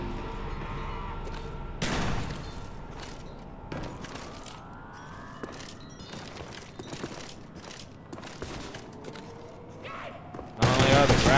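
Video-game gunfire from shotguns and pistols in Call of Duty: Black Ops Zombies, with sharp shots scattered irregularly over a busy background of game effects, plus a louder burst near the end.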